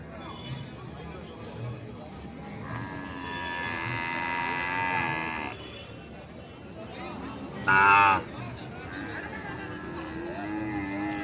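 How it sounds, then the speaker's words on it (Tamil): Holstein Friesian cattle tethered at the Erode Karungalpalayam cattle market, with drawn-out moos rising over a steady murmur of crowd noise, one loud close call standing out near the end while people talk nearby. "ஹெச்எஃப் இது மாதிரி மாடுகள் மட்டும்தான் கட்டி வச்சுருக்காங்க"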